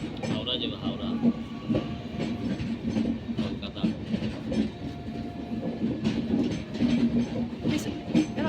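A passenger train running with a steady low rumble and rhythmic rattling of the carriages, heard from inside, with voices of people talking faintly over it.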